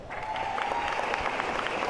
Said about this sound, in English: Let's give our guests a warm welcome of applause.